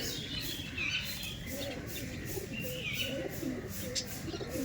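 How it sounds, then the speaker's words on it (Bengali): A pair of Madras pigeons, male and female, coo softly and repeatedly at close range, low rolling calls in a steady rhythm over background noise. "এক সেটের জিরিয়া পায়রা দুটো"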